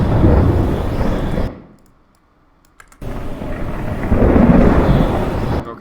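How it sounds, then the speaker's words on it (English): A thunder sound effect in a spaceship animation composite: a loud, close rumbling roll that cuts to near silence for about a second and a half, then a second heavy rumbling crash that swells and holds. "I'm going to keep the thunder in."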